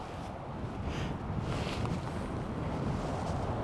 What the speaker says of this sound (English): I don't know if people realize how windy it is right now.